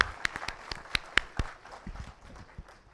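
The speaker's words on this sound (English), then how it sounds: "So a round of applause for him." Scattered hand claps from a small lecture audience at a university talk, a sparse, uneven patter of sharp claps that thins out toward the end, fairly quiet and heard without speech.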